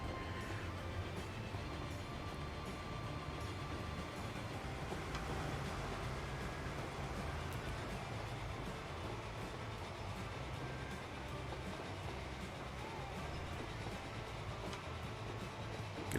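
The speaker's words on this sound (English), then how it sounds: "So we did expand the capacity of this train." Steady rumble and rolling clatter of a long freight train running on rails in Transport Fever, a continuous even drone with no voices over it.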